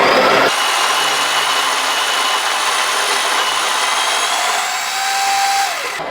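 Coffee grinder grinding beans into a dosing funnel, a loud, steady, close whirring grind that starts abruptly and runs continuously for several seconds, then changes pitch slightly near the end.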